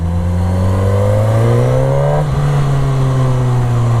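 A Suzuki GSX-S1000 motorcycle's exhaust drones loud and steady while riding around a car park, its pitch rising gradually under throttle before a brief dip and settling into a smooth, even cruise note.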